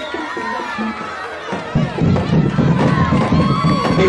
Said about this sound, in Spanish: Fuerte el aplauso para la primera princesa